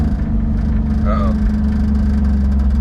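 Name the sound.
Chevrolet Camaro engine idling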